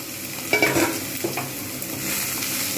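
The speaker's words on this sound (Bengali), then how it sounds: "তেল গরম হয়ে গেছে সুতরাং আমি সয়াবিনগুলো দিয়ে দেবো" Soybean chunks fry in hot oil with a steady, close sizzle, broken early by a brief clatter of stirring in the pan.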